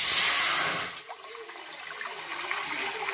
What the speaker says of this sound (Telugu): ఒక లీటర్ నీళ్లు పోసి